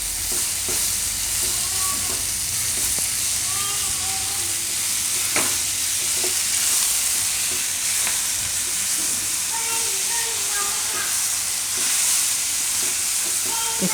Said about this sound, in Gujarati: હવે આપણે આમાં નાખી દઉં મેથી ભાજી. તો આને આપણે મિક્સ કરવાનું.